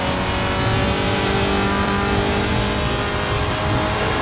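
Audi RS 3 LMS race car engine held on throttle through a corner in the R3E racing game on the Blister Berg track, a steady, loud mid-range engine drone running continuously without a break.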